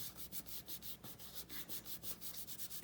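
Torn strip of paper rubbed down firmly by hand to stick it onto a vellum ephemera holder, a close, steady back-and-forth scraping in quick repeated strokes, with no voices.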